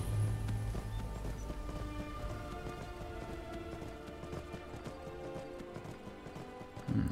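Steady clip-clop of horse hooves trotting throughout in modded Skyrim, with a faint whinny, over a bed of game music.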